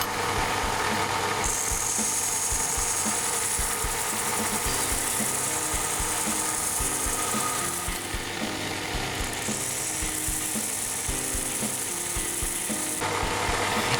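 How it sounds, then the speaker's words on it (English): A belt sander tidying up a saw cut on a small metal lathe carrier in a home machine shop, running with a loud continuous whir and grinding hiss that rises in two long stretches as the metal is pressed against the belt. "So first up, a bit of belt sander time to tidy up that saw cut."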